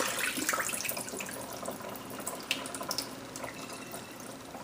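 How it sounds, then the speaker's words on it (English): Water poured out of a pot of rinsed rice grains, a steady close splashing trickle with small bursts and drips, no talking. "I'm going to come and I'm going to spill all the water out."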